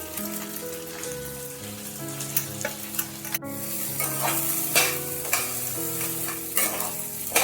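Washed rice stirred and fried in a pan with spices for kanika, a temple offering dish, a close, steady crackling sizzle broken by repeated scraping stirs and light knocks of the spoon.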